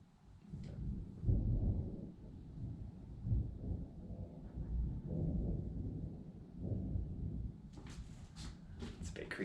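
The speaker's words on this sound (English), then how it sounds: "in a house on the edge of a cliff and you hear thunder" Thunder rumbles low and steady through a storm around a cliff-top house, rolling for several seconds with a few sharper cracks near the end.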